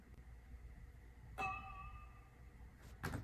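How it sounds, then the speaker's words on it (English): A metal saucepan holding water is struck, recorded on a phone, giving a bright ringing tone with wavering overtones that slowly fades, then a second knock near the end. "So the original saucepan sounds like this."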